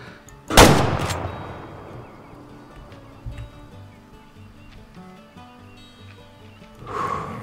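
A hunting rifle fires once in the Way of the Hunter game, a single loud sharp crack close up that rolls away into a long fading echo, followed by quiet ambience and a later soft rustling swell.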